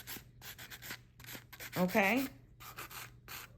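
A hand file rasping over an acrylic nail overlay in steady rhythmic back-and-forth strokes, close and continuous, with a voice speaking briefly in the middle.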